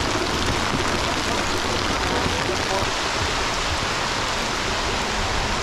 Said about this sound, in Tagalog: Nabutan kami ng ulan.